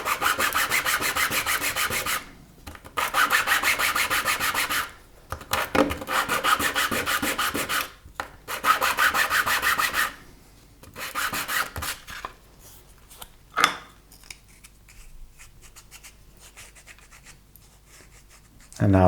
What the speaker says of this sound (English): I'm using 200 grit sandpaper to clean the cylindrical surfaces of the button.